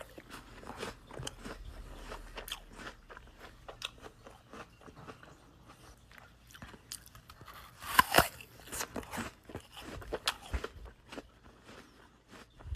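Several people chew close by, with irregular crunches and bites scattered throughout and a louder cluster of crunching near the middle.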